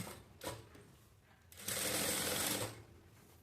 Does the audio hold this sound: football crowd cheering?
no